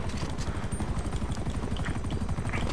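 A helicopter in GTA 5 Online makes a steady, rapid rotor chop with a low engine drone, held close and even throughout without a break.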